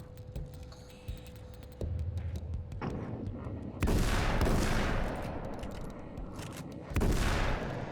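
Gunfire from a new, more powerful weapon in the video game Alan Wake's American Nightmare: two heavy, booming shots a few seconds apart over a low ambient hum, each with a long rumbling decay.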